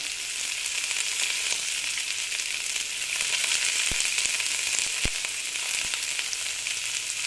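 Carrot fries in a pan for an oats snack, giving an even, close sizzling hiss throughout with a few sharp crackles and pops and faint stirring, no voices.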